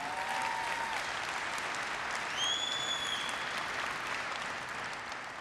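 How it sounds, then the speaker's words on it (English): A keynote audience at an architecture, engineering and construction event applauds steadily for the whole stretch, a dense, even wash of clapping with a few faint tonal whistles rising over it. "So a big round of applause"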